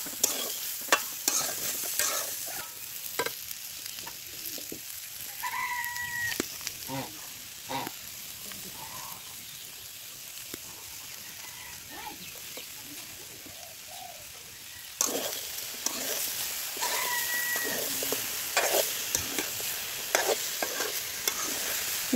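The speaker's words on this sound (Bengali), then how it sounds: "বেলগুলো কড়াইয়ে দিয়ে হালকা একটু নাড়ানাড়ি করে দিয়ে দিব মিষ্টির জন্য গুড়।" Steamed bael fruit is stirred in a wok for a home-style bael morabba, with soft, steady scraping and a light sizzle over about twenty seconds, plus a faint bird cooing now and then.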